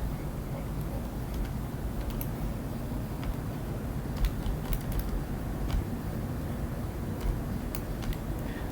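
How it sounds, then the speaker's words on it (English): Calculator buttons pressed quickly, heard as faint, irregular little clicks over a steady low background hum. "if I click that real quick on the calculator"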